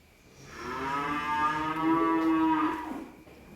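A Limousin cow gives one long, loud, close moo that swells and then fades, with no other sound around it.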